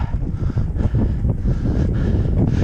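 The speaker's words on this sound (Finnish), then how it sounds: "Tuo tuuli on aika sivuuttainen." Gusty crosswind buffets the microphone on a bike ride by a river in low, rumbling bursts, steady and fairly loud, with no voices present.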